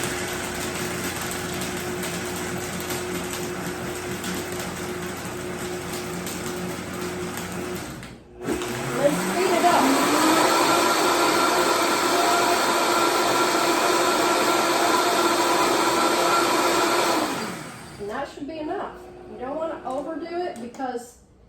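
A blender mixes a vegan berry smoothie. Its motor drones steadily, cuts out briefly, then restarts louder with a rising whir that holds for several seconds before stopping abruptly. Some quieter clatter follows.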